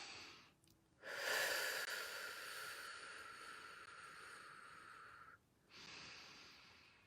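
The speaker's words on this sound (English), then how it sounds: "Take a deep breath with me." One long, slow deep breath is drawn in close to the microphone after a brief pause, followed by a short quiet gap and the start of another breath, soft and airy with no words.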